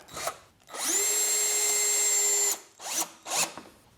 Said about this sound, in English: Let's drill another pilot hole, another screw.